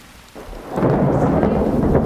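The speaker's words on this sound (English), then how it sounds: "It's been pouring and thundering." A thunderstorm sound effect from a high school stage production of Our Town: a low rumble swells into loud, steady roaring thunder over a dense hiss of rain, with no talk.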